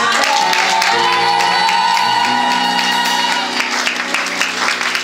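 A church congregation breaks into loud, sustained applause and cheering for Jesus during a sermon, a dense wash of clapping close by with a music-like tonal bed underneath.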